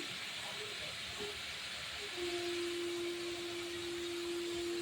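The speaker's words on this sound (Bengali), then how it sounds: "এবার চাটুতে তেল দিয়ে দেবো" Steady hiss of refined white oil sizzling on a hot griddle for a cauliflower paratha, close and continuous, with a faint tone joining partway through.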